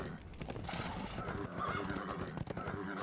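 A cavalry unit whinnies and neighs in Age of Empires, a real-time strategy game, with hoof clip-clops mixed into a dense, loud wash of battle and game effects across the short stretch.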